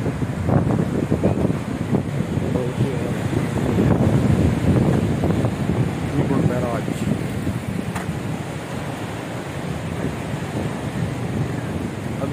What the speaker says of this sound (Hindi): बहुत खतरनाक आवाज है भाई पानी की